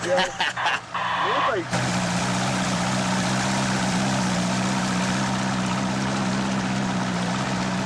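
A steady motor drone with a low hum runs throughout, a motorboat churning through floodwater along Main Street of Kingfisher, Oklahoma, in 1982, after a brief burst of talk at the start.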